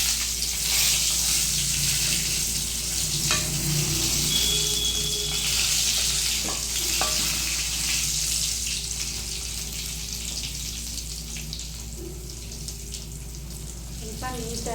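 Eggplant frying in oil in a pan for a Kannada dish, a loud, continuous close sizzle with occasional clinks of stirring throughout.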